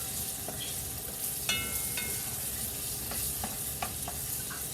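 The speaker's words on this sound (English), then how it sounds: "You just want to cook them so that the oil gets that flavor of the onion." Onions frying in hot oil for ham and rice, stirred now and then, with a steady close sizzle and a few sharp utensil scrapes and clinks in the pan.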